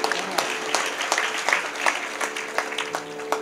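An audience at a village kirtan applauds, a soft, steady patter of many hands with a few sharper claps standing out, continuing for a few seconds at moderate distance.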